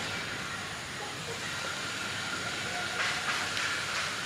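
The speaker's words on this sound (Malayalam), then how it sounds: "ഇനി ഇത് തിളക്കട്ടെ കേട്ടാ." A pot of sambar boils on the stove with a soft, steady hiss and faint bubbling, quiet and continuous, with a few brighter bubbling bursts near the end.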